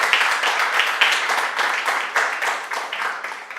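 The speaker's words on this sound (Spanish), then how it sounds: "¿Cuánto le dan un aplauso a Él?" Congregation at a Spanish-language Easter resurrection church service applauding together, a dense, steady wash of many hands clapping at moderate distance, swelling in irregular waves for several seconds with no voices on top.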